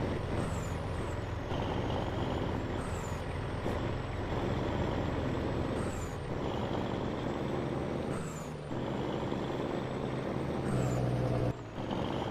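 Truck in Farming Simulator 22 on a Brazilian rice farm, with a steady engine drone and repeated hissing air-brake bursts at intervals over about twelve seconds.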